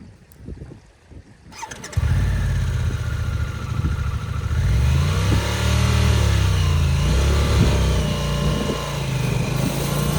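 A Harley motorcycle on a New Zealand ride sits quiet for a moment, then its engine catches and runs loud, rising and falling in pitch as the throttle is opened while the clutch is let out.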